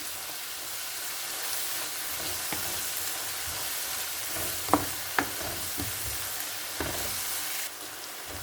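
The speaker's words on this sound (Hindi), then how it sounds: "उसके बाद हम इसको सिर्फ 2 मिनट अच्छे से भूनेंगे।" Onions frying in a pan for bhindi pyaz give a continuous close sizzle, with a few sharp clicks and stirring scrapes partway through and the sizzle cutting off near the end.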